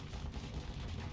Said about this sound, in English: And let's fire some torpedoes.